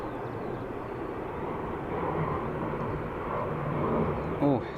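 An airliner rolling down the runway at Dublin Airport, a distant, steady engine roar under quiet talk from people nearby.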